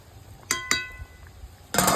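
A metal spoon clinks twice against a pot of biryani rice, two sharp ringing taps close together, followed by a short, louder burst of scraping as the rice is turned over, with no talking.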